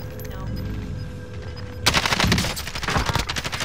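Rapid bursts of gunfire in a battle royale video game crackle loudly after a quieter opening, with dense overlapping shots under voice chat.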